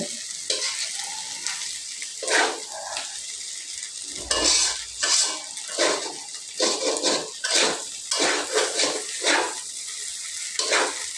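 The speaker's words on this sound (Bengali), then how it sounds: "নুডলসটা নাড়তেছি" Chow mein noodles tossed and stirred in a hot frying pan, a steady sizzle broken by repeated scraping strokes of the spatula, close and busy with no talking.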